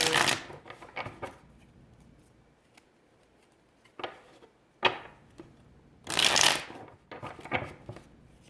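Tarot cards being shuffled in several short bursts of riffling and flicking, close by, with quiet pauses between them.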